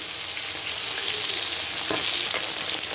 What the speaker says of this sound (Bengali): দেখো মাছগুলো একসাথে সব ভেজে নিচ্ছি।